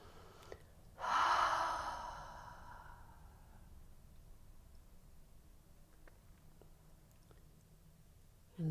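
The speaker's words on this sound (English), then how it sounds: "So maybe one more nice deep breath." A single deep breath, a long inhale swelling into a strong airy exhale that trails off, then quiet, during a guided mindfulness exercise.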